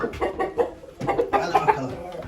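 A chicken clucks in a quick series of short, close notes, rising and falling in uneven bursts.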